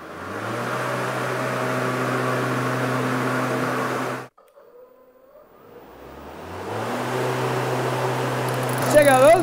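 A Powersmart 26-inch battery-powered lawn mower hums steadily with its self-propel drive wheels spinning, then cuts out abruptly and falls nearly silent before the motor whine ramps back up.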